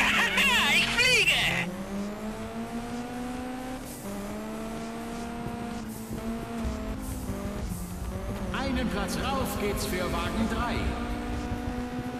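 Racing car engine in Juiced 2 drones steadily with shifting pitch as it overtakes, with a tire squeal near the start and another burst of squealing toward the end, loud and close.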